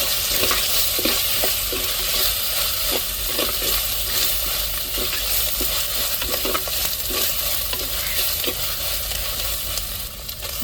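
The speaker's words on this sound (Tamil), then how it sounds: "இப்போ கருவேப்பிலை சேர்த்துக்கிடுவோம்" Curry leaves frying in hot oil as a tempering for a squid and vegetable curry, giving a steady loud sizzle throughout with scattered stirring clicks and pops, no voices.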